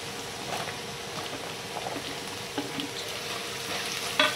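Green peas cooking in oil under a lid for Maharashtrian kande pohe, a soft steady bubbling sizzle at moderate level with a small clatter near the end.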